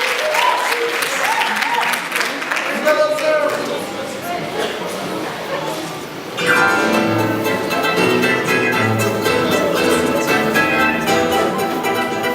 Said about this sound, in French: Applaudissez les bien forts